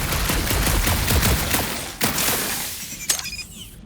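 Quill's blasters firing in Marvel's Guardians of the Galaxy, loud rapid shots rattling for the first couple of seconds, then a few separate sharp cracks and a bright, glassy shattering burst near the end.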